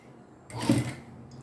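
A sewing machine runs a short stitching burst of about half a second, fastening thick, wide elastic onto a pair of pants, close and moderately loud after a quiet lead-in, with no talk.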